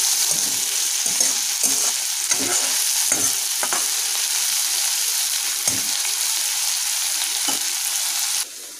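Tomatoes fry in a pan with a little salt, a steady close sizzle running throughout, broken by repeated scraping clicks of stirring.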